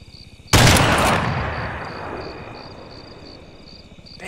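A sudden loud burst of gunfire in the military video game ARMA 3, a sharp crack followed by a long echoing tail that fades slowly over a steady insect-like background chirr.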